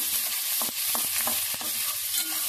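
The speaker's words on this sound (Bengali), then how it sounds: "এই পেঁয়াজগুলো ভাজতে ভাজতেই গলে যাবে।" Onions frying in a pan for a thin egg curry, a steady close hiss broken by several sharp scraping stirs and knocks of a spatula, with no talking.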